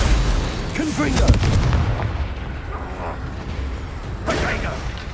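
In the Hogwarts Legacy video game, a Confringo blasting spell bursts into loud, rumbling booms with a whooshing blast amid heavy combat noise, close and dense throughout, while characters shout over it.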